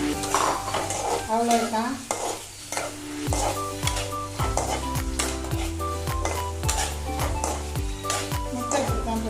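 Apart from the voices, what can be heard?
eggs frying and sizzling in a pan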